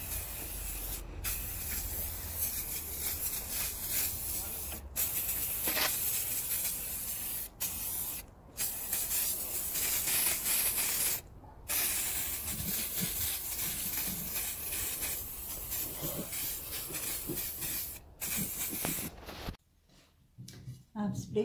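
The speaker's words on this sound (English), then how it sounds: "I'm going to use this to spray paint it by Rust-Oleum" A Rust-Oleum aerosol spray paint can hisses in long, loud bursts separated by brief pauses, the spray continuing almost nonstop up close.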